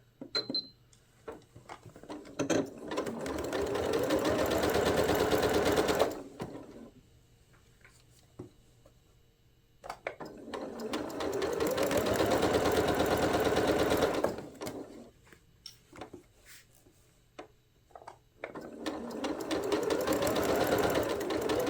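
A sewing machine stitches quilt pieces in three long bursts of rapid mechanical whirring, separated by quiet pauses with soft handling clicks, close by and fairly faint.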